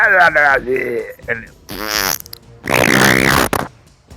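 Voice imitating a nasty wet fart, several buzzy sputtering bursts of mouth noise that stop and restart, close and loud, with bits of speech mixed in.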